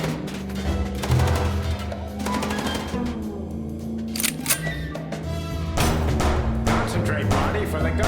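Rapid gunfire in the video game Chicken Police during a car chase shootout, dense repeated bursts running steadily throughout alongside game music and voices talking over it.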